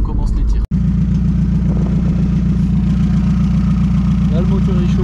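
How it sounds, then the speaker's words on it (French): A 1986 Renault Espace engine running on an open exhaust, idling steadily with a deep, continuous rumble close by. A brief dropout comes near the start. "C'est un petit peu un moteur élevé en plein air pour moi, qui est en échappement libre."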